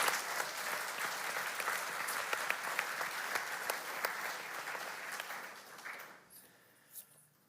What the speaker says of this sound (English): if we could just start with another round of applause for all three of our speakers